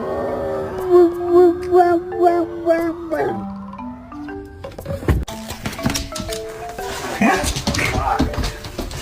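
A skinny-headed dog whimpers and whines in high, wavering tones, then breaks into louder yelps and barks, close by, while people talk over it.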